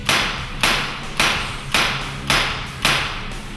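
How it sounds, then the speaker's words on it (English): A CO2-powered rifle has its trigger pulled six times, producing six sharp, evenly spaced snapping thumps about half a second apart, close and loud, with nothing else heard between them. "point the rifle in a safe direction, flip the safety to fire, and pull the trigger 6 times"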